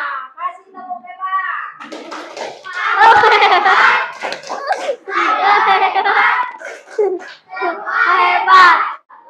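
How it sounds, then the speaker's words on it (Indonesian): Schoolchildren in a classroom clap their hands in bursts as a group, mixed with the children's excited voices and chanting between the rounds. "Kasih tepuk tangan."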